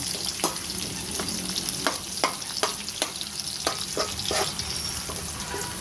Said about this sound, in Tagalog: So ihalo ko yung onion.